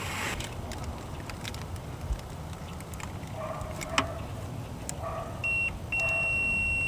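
A multimeter checking the resistance of a combined EGR valve and solenoid, giving a brief electronic beep, then a steady continuous tone, over quiet background noise with a few small clicks and no talk.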